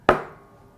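A single sharp wooden crack from a jukbi bamboo clapper being struck, close and loud, with a short decaying ring afterward in an otherwise quiet room.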